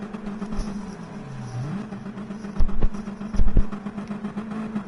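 Car engine revving in a racing video game at the race start, a steady mid-pitched engine drone held under throttle with a few short louder bursts near the end.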